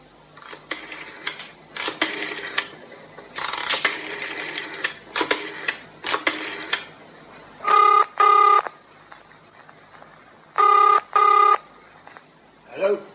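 Old rotary telephone being dialed in a radio drama, several bursts of dial whirring and clicks, then two pairs of ringing tones on the line, with brief speech at the start.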